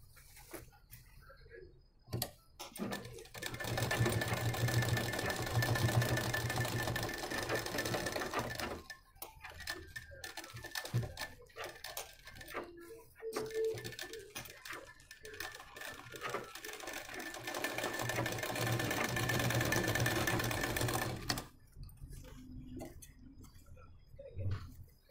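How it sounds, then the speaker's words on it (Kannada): A sewing machine stitches the edge of an Ari-work blouse in long, steady runs of rapid ticking, stopping briefly between bursts, close and fairly loud with little talk. "ಕರೆಕ್ಟಾಗಿ 2 ಸ್ಟಿಚ್ಚನ್ನು ಹಾಕಿ"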